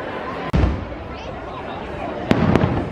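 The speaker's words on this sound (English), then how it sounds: "Enchantment fireworks just went off and gave us a heart attack because you can't hear the music, but you can hear the firework." Fireworks going off at Disney's Magic Kingdom, a sharp burst followed by a couple of quick pops a moment later, heard over a steady background of crowd chatter.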